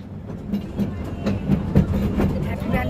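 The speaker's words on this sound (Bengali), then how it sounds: "চড়ে বসেছি এবার টয় ট্রেনে।" A toy train ride rolls through Happy Valley Park in Bira, with a steady clickety-clack of wheels over rail joints and a low rumbling undertone, close and continuous.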